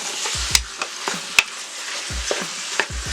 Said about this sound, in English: We're just going to sear this off. Get it all nice and browned up.